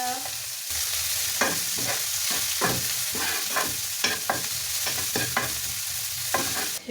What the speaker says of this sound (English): we put our onions, we add some butter in there